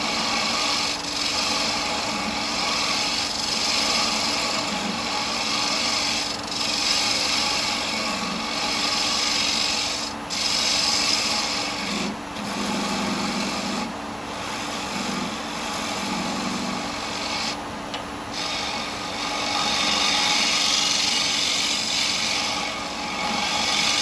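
Lathe turning a large segmented wooden jar while a carbide tool tapers its bottom, giving a steady motor whine and rushing cutting noise that swells and eases over a long stretch, with no voices.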